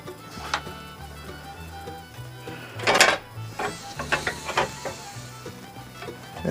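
Screwdriver and loose metal parts clicking, scraping and clattering while a 1965 Evinrude 3hp outboard is taken apart, a run of small close-up knocks with one louder clank near the middle.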